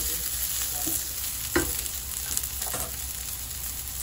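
Onions sautéing in a pan for a salmon pakbet vegetable stew make a steady, moderately loud sizzle, with a few sharp clinks of stirring scattered throughout. No voices.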